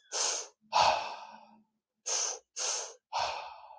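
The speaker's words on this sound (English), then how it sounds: "Let's just take 10 active breaths in." Deep, forceful breaths during a meditation breathing exercise: five loud, close bursts of inhaling and exhaling in a quick, uneven rhythm with short pauses, no talking.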